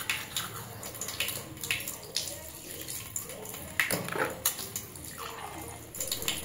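Tap water runs steadily while someone washes their face, with irregular splashes and bursts as hands scoop and slap water close by.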